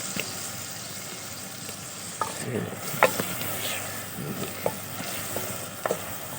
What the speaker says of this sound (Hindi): ये देखें व्यूवर्स, प्याज घी में अच्छी तरीके से भून रहे हैं।